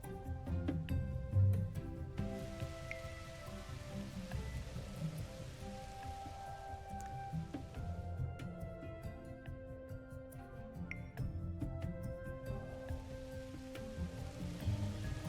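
Steady rain pattering on a surface in the video game The Universim, a continuous dense patter with ambient music tones underneath, no voices.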